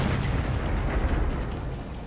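A single heavy tank cannon boom in World of Tanks, with a rumbling low-end tail, loud and close, fading over a couple of seconds.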